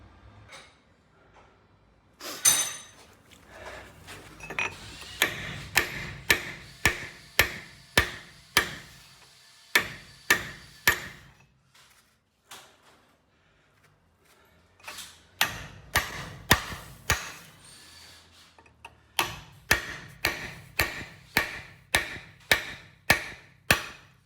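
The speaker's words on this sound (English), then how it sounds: "Right, I'll hit it with a big hammer." Repeated heavy blows from a big hammer ring sharply on metal while fitting new drive shafts, in steady bursts, with brief pauses between series of strikes.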